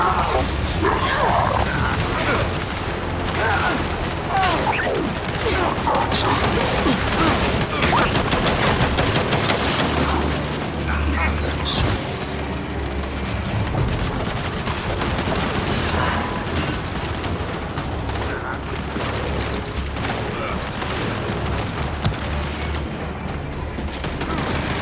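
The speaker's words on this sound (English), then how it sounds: "We can't deal with those turrets!" Turret gunfire in the shooter Gears 5, dense rapid bursts and booms firing almost continuously throughout, with shouting voices mixed in the chaos.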